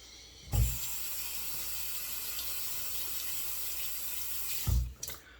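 Tap water runs steadily into a sink to wet a shaving brush, a continuous hissing splash that starts with a thump and stops after about four seconds, with a brief knock at the end.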